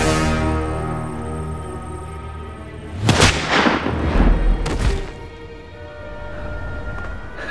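Gunshots in an action film scene, two sharp bangs about a second and a half apart over a low background hum, the first followed by a rumbling tail.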